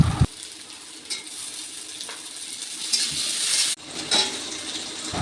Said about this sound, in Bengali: এদিকে মা পেঁয়াজ ভাজা করছে।